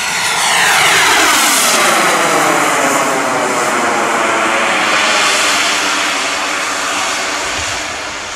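An HSD Jets T-45 Goshawk RC jet at full throttle gives a loud, sustained turbine roar and whine that swells and shifts in pitch as it passes overhead, with no talk.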